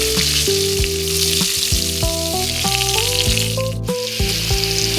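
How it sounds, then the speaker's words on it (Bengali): Pointed gourd (potol) slices fry in oil with a constant loud sizzle, heard beneath steady background music throughout. "ভাবলাম পটল ভাজা করি"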